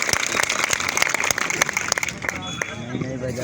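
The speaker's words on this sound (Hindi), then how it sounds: "ताली बजाओ भैया, स्वागत करो।" An audience at a village team match gives a welcoming round of applause, rapid clapping from several hands up close that thins out after about two seconds, with a voice heard over the final moments.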